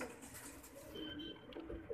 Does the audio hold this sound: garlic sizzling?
no